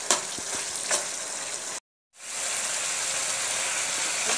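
Carrot halwa with sugar fries and sizzles loudly in a pan while being stirred, a continuous close hiss with a few scraping strokes early on and a brief cut to silence midway.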